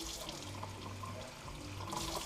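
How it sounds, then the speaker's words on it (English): Hot water runs from a tap into a plastic container, a steady close-up gush and splash that continues without pause, with a faint hum underneath and no one speaking. "you want to turn your water on, get it to where it's nice and hot"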